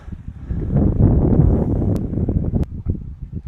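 Wind gusting around a boat riding at anchor, a steady broadband rush that swells and eases over a few seconds, with occasional faint knocks and ticks from the hull and rigging.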